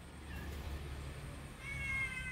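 A tomcat that has wandered inside a house gives two drawn-out meows, a short one early and a louder, longer one near the end, against a quiet room hum with no talking.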